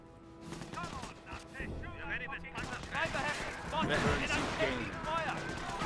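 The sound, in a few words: gunfire in the video game Company of Heroes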